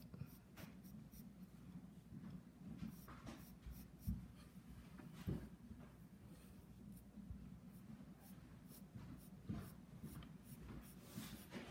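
Black charcoal pencil scratching across paper while detailing a wolf's hair in a pastel drawing, with steady soft dry strokes and a few sharper taps, close and fairly quiet.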